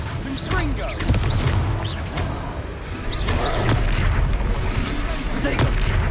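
Blasting explosions from the Confringo spell in Hogwarts Legacy, repeated booming crashes amid busy combat noise, with voices talking over them.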